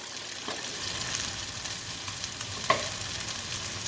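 Bell pepper goes into a sizzling stir-fry of chicken, tofu and snap peas, producing a continuous close frying hiss with a few sharper bursts as the pan is stirred, no talking.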